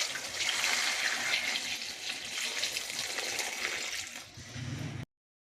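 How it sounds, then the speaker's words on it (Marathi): Mangoes being washed under clean running water, a steady close splash of tap flow over fruit for about five seconds before stopping abruptly. "आंबे हे स्वच्छ पाण्याने धुवून"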